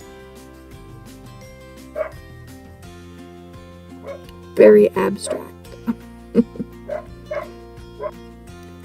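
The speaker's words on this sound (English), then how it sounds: "Sorry about the dogs barking." Several sharp dog barks burst out in an irregular cluster partway through, loud and fairly close, while a person talks quietly throughout.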